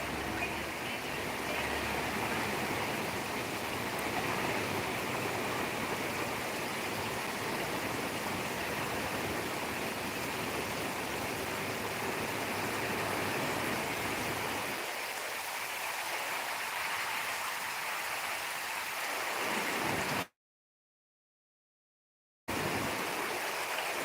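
Steady rushing rain with wind near Kanchipuram, a constant hiss, fairly soft and unbroken, briefly cutting out near the end.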